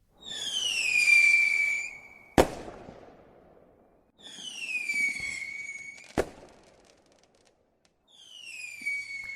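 Three fireworks whistle upward in descending shrieks; two end in sharp bangs that echo and fade, with quiet pauses between launches.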